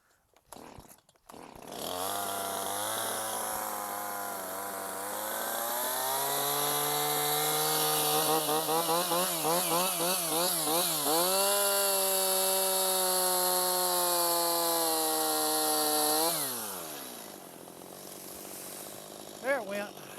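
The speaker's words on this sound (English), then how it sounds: "Cutting trees is hard enough than dealing with a chainsaw" A Stihl chainsaw that keeps stalling runs loud and close outdoors, revving up and down in a steady high buzz for about fifteen seconds before cutting out, with a breeze in the background.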